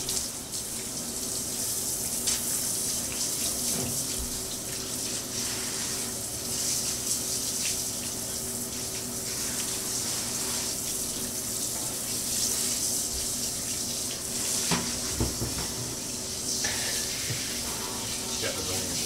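Water from a shower runs steadily and loudly while a dog is being washed, a continuous hiss of spray over the whole stretch with occasional knocks and splashes.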